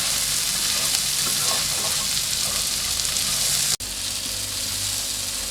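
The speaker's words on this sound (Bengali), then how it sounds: "সবগুলো সবজি আমি দিয়ে ভালো মতো এগুলা যতক্ষণ না সিদ্ধ না হয় ভালো মতো ভেজে নেব" Capsicum, carrot, tomato and other vegetables frying in a pan, a loud dense sizzle hissing steadily at close range, briefly cut off near the end before resuming, with no speech.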